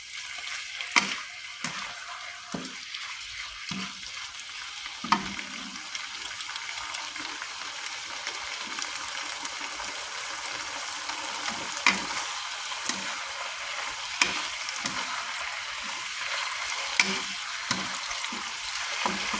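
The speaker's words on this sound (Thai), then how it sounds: "เราก็ค่อยๆคนนะคะ" Eggplant stir-fry sizzles steadily in a pan while a utensil stirs it now and then, giving intermittent scraping sweeps over a constant hiss of frying, close and without speech.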